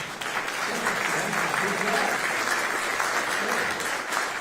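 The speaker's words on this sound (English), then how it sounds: "you didn't hear because of the thunderous applause for Esther." Loud, sustained applause from an audience at a presidential bill-signing event for the Genius Act, a dense, continuous wash of clapping that fills the whole stretch without pause.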